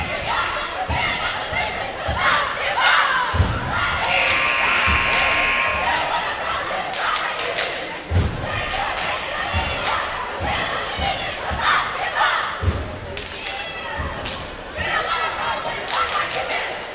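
A cheer squad at a high school girls' basketball game leads rhythmic chants backed by crowd noise, with repeated sharp stomps and claps punctuating the cheers in a gym.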